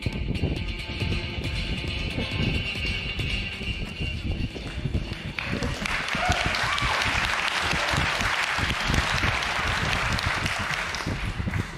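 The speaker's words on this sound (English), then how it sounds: "Thanks for the warm applause." Live audience at the PC Gaming Show applauding a Funcom presentation, a loud, continuous wash of clapping that swells and stays dense for the whole stretch.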